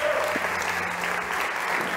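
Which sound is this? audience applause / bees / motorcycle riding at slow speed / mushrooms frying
audience applause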